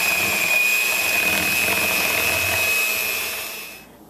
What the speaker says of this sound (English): now I'm going to mix it with my electric mixer